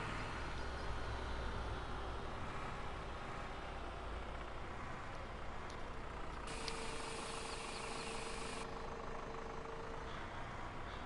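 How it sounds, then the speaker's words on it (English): Tractor engine running steadily in Farming Simulator 17, a continuous droning rumble with a faint tonal whine partway through, no talking. "Next time I lease a tractor, I'm going to get one that's a little quicker than this."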